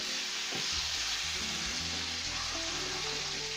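Meatballs sizzle and fry in a pan with a constant bright hiss, broken by a few soft scraping stirs, close and fairly quiet.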